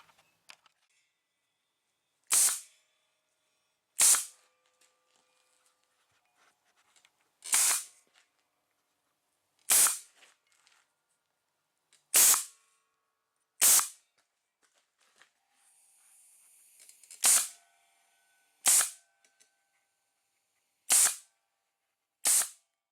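A 1/4 inch staple gun fires staples through fleece into a cracked G-body Monte Carlo dashboard being restored: ten sharp, loud snapping shots spaced about one to two seconds apart, with a brief faint rustle between two of them.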